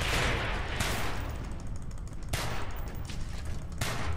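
Sustained gunfire in the Call of Duty Black Ops video game forms a dense, loud wash of shots and echoing blasts, with several sharper reports standing out over continuous rumbling noise.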